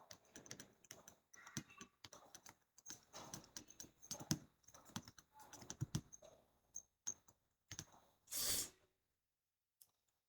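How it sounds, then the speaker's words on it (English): Typing on a computer keyboard: rapid, close, irregular bursts of key clicks with short pauses, ending in a brief louder hiss and a final tap. "We will type this complete text."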